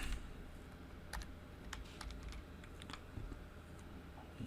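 Typing on a computer keyboard while configuring a VoIP network, quiet irregular clusters of key clicks close by with no talking.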